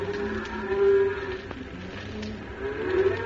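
Cattle low on open plains, with several drawn-out moos rising over a soft rumbling background, one near the start and another near the end, with no talk.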